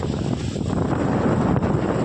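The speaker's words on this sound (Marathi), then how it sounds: "इकडं बघा कसं चाललं आहे वारं" Strong wind gusting steadily outdoors in a village just before rain starts, a continuous broadband rush with low rumbling buffeting against the microphone throughout, no voices.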